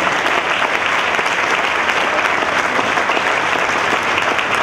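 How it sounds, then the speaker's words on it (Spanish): A church congregation applauds the Lord, a loud, sustained and even burst of many hands clapping together with no talk over it. "¿Cuántos dan un aplauso al Señor?"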